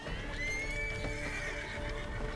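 A horse neighs and whinnies in a Wild West video game, with clip-clop hoofbeats beneath it; the drawn-out whinny sits close and steady over a busy background.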